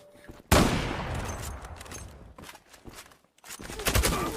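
Gunfire in an online multiplayer shooter game: a sudden loud burst of rapid shots followed by a scattered volley of further gunfire, with a short quiet gap before more shooting near the end.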